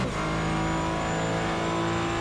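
A GT4 race car in a sim racing game at Lime Rock, heard from on board as a loud, steady engine grumble with a constant droning tone and no break, alone without talk.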